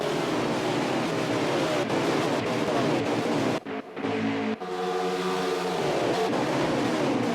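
Race cars in an online sim racing championship roar together in a dense, steady engine drone at a restart, with a brief dip in the middle before the pack noise swells back.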